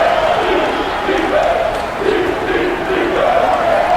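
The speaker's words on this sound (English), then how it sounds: "Crowd getting into it." Basketball arena crowd cheering in a college basketball video game simulation, a loud, swelling mass of voices with rhythmic chant-like rises and dips, steady throughout.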